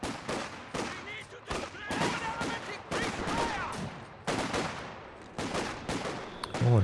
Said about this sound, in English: Oh, and a British mortar now.